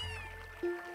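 Cats meow in the video game Spiral Knights: a short tonal meow rises near the end of the second over a low steady game hum, close and moderately loud, with no talking.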